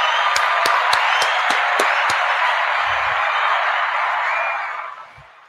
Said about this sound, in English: Give him another round of applause, y'all.